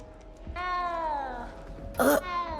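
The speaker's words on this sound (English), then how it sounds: "You don't need to be frightened, little cat." A frightened cat in the video game Hogwarts Legacy gives one clear, drawn-out meow, followed moments later by a short, higher, sharper cry against quiet background sound.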